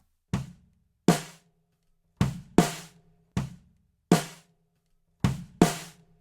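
Drum kit overheads run through a Waves CLA-3A compressor, punchy separate hits with bright cymbal splash and short tails in a repeating groove, close and clear against silence.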